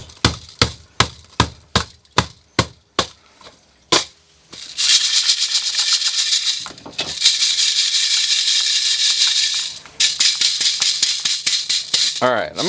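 Gold-prospecting paydirt from a kilo bag is shaken in a pan or sieve: a run of about a dozen sharp, evenly spaced taps, then long, loud bursts of gritty rattling and hissing as dirt and gravel are shaken, close up.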